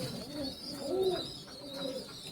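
Imported pigeons cooing softly in a loft, a few low rolling coos rising and falling over a steady hiss, with no talking.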